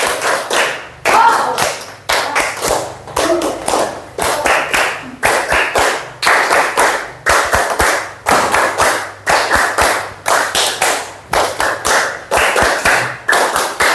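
A group claps a three-beat classroom clapping pattern in a steady repeating rhythm, loud and close, with sharp bursts of claps in short regular patterns throughout.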